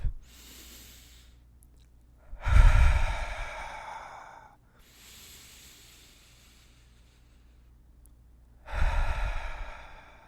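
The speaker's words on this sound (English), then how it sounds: "You breathe in through your nose and out your mouth." Slow, deep breathing in through the nose and out through the mouth, with long airy exhales rising and fading and quieter inhales between them, close and alone.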